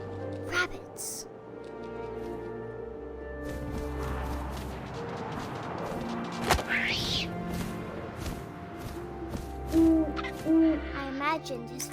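Owl hooting within the video game What Remains of Edith Finch, a few low hoots over a steady wind-like ambience and game music, with a narrator's voice speaking.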